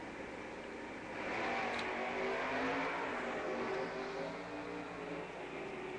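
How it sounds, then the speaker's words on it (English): Drag racing cars, a 1988 Mercury Cougar with a 460 engine and a Ford Mustang with a 428, roar down the strip together, a loud sustained engine drone that swells and holds, heard from a distance without talk. "Cool little pair of race cars."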